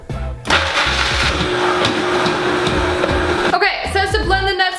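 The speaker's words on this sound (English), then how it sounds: "turn your blender on" A kitchen blender grinds nuts into a dry nut butter, a loud close motor roar with gritty rattling that runs steadily for about three seconds before cutting off, followed by a voice speaking.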